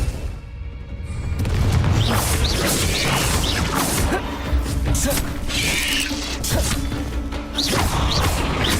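Confringo explosive spell bursts in Hogwarts Legacy, heavy booms and crashes with whooshing swishes and thuds in a dense, loud jumble of spell combat.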